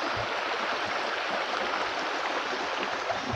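A river in Napsan, Palawan flows over rocks along its upper stretch, giving a steady, close, even rush of water that fills the whole moment without a break.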